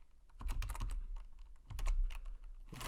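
Quiet typing on a computer keyboard: two short, fast bursts of clicking keystrokes with a brief pause between them and no talk over them.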